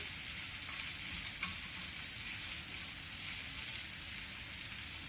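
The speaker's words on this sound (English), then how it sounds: "Into this lovely garlicky mix, I'm going to add the mushrooms. And again, the flame is high." Mushrooms frying in a garlicky mix over a high flame, a dense, even hiss of sizzling that stays steady and close throughout, with no voices.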